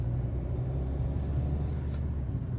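Cabin noise inside a Hyundai Creta driving at about 45–60 km/h with the air conditioning off: a steady low road and engine rumble, moderately quiet, with no talking.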